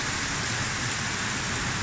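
Heavy rain pouring outdoors in Singapore, a steady dense roar of falling water that holds constant and loud throughout, with no voices.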